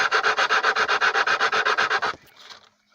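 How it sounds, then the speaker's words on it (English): Sandpaper wrapped on a wooden tongue depressor sands a wooden model-aircraft wing rib in quick, steady back-and-forth strokes, about a dozen rhythmic rasps close up, then stopping abruptly with near silence after. "Sand a little at a time until it fits."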